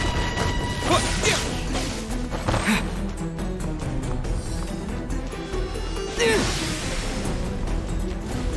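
Terra Smash attack by a Hilichurl in the video game Genshin Impact, heavy crashing impacts and whooshes over loud continuous game sound and music, with voices shouting in the game.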